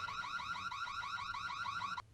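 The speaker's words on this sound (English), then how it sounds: "my parents had turned the house alarm on" A house alarm sounds, a loud rapidly warbling electronic siren that repeats its cycling tone steadily for about two seconds before cutting off abruptly.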